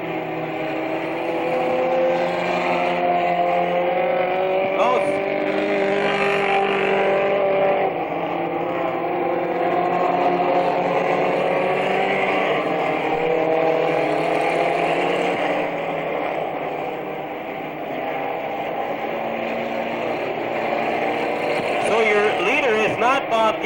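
Race cars roar around the oval at Merrittville Speedway, a constant loud engine drone rising and falling as cars jostle for position, with a commentator talking throughout.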